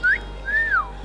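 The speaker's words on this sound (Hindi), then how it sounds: "लड़के पहले उसे देख के सीटी बजाते हैं" Boys give a girl a two-part wolf whistle, a short rising note followed by a longer sweeping tone that rises and falls, loud, close and clear with no voices.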